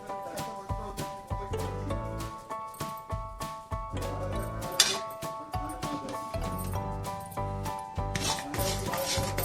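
A spoon stirs cardamom powder into hot jaggery syrup in a pan for tilgul ladoo, giving rhythmic rubbing scrapes and soft clinks, repeated steadily and close, beneath background music.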